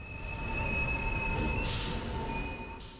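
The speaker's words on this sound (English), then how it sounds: "Here's another Polish PKP train coming in from probably Warsaw or Krakow" A Polish PKP train pulls into a station, its wheels letting out steady high-pitched squeals over a low rumble, with brief hissing bursts partway through, and no talking.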